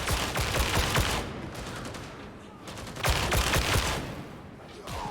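Gunfire in the co-op shooter game Warhammer 40,000: Darktide, with dense bursts of rapid shots and clattering that swell, ease off in the middle, then surge again under a busy game mix.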